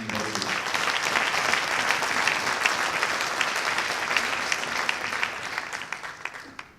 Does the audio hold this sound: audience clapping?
yes